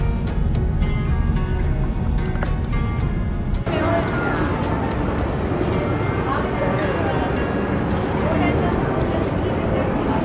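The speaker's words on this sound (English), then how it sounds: "Gondola ride." Gondola gliding on the canal at the Venetian in Las Vegas, a steady wash of water and crowd murmur all the way through, with voices of people nearby.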